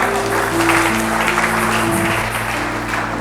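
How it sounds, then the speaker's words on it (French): A church congregation claps together in a sustained, even wash of applause, with a held musical tone underneath. "C'est bien d'applaudir pour le Seigneur."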